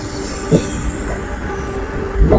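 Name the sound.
passing train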